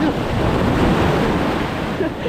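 Waves surging near a small boat on the water during heavy flooding, a continuous loud broadband wash with wind buffeting the microphone and no clear speech.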